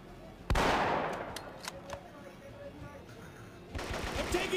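Enemy gunfire in the shooter game Marine Sharpshooter 2: one sharp nearby shot, then scattered distant pops and a rattling burst of shots near the end, with ambient game noise in between.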